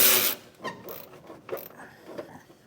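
A ratchet clicks in short bursts while tightening U-bolts on an underbed gooseneck hitch being installed on a 2025 Chevrolet truck, with a loud rustle at the start and quieter clicks afterward.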